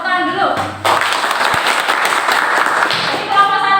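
A class of students clap their hands together in a classroom, a brief burst of scattered, uneven claps over voices and room chatter, with children talking throughout.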